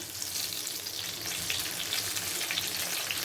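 Limestone valai fish frying in a pan with masala coating, a steady dense sizzle of hot oil running throughout at even loudness, with no voices.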